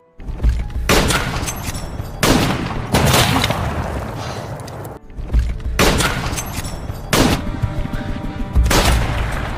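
Gunfire in a WWI battle scene from the film 1917, a soldier trading shots with a German sniper hidden in a building: several sharp, loud reports spaced a second or two apart, each ringing out in a long echoing tail.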